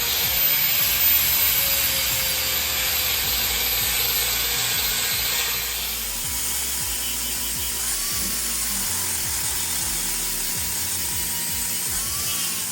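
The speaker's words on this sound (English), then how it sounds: "So he's going to machine it real fast." A Powerglide transmission part is machined flat in a workshop, giving a loud, continuous grinding and rasping mechanical noise with a repetitive scraping texture that eases slightly partway through, with no talking.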